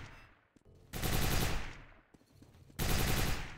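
Turret machine gun fire from the video game Quake 4, two loud sustained bursts of rapid automatic shots with a short gap between them, close and dense, with no talking.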